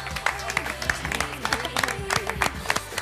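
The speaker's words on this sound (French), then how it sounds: "vous pouvez vous applaudir" Pastry contestants on a baking competition show clap for themselves, light scattered applause with a few distinct claps under speech.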